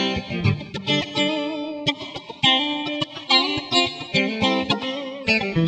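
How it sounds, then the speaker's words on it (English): A Parker Nightfly electric guitar plays on its coil-split middle pickup with a scooped, hollow tone, picking a quick run of bright, clear notes and chord stabs in an uneven funky rhythm, close and alone. "middle pickup, coil split. And this is more of that funky kind of hollowed out sound"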